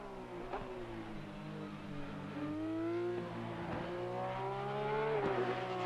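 Porsche Cup race car in the simulator Assetto Corsa Competizione, its engine note rising and falling as it accelerates through gears, a steady close mechanical drone with revs climbing and a shift partway through.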